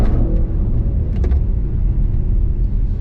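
Mercedes-AMG GLC63 S E Performance with its turbocharged four-cylinder engine, rumbling at a steady, loud level while the car is driven, with low road noise throughout.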